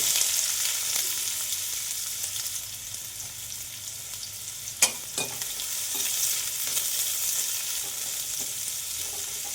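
Chopped onions and whole cumin sizzle steadily in a hot pan, with a sharp scrape of stirring partway through and occasional soft clinks.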